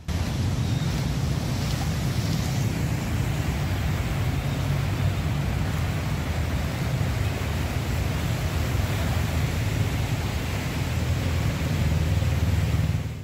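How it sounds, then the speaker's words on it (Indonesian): Vehicles drive through a flooded street in Jakarta, and their passage becomes a constant low rushing wash of water and engine rumble that holds steady and loud for the whole stretch, with no speech. "Kendaraan yang berani melintas banjir ini terpaksa hanya satu jalur"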